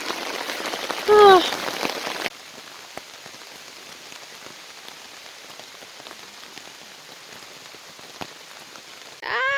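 Steady rain patters down on a backcountry canoe trip in the Kawarthas, a soft continuous hiss of drops, with a brief higher whistling sound near the start and again at the end.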